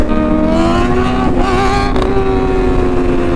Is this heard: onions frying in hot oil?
no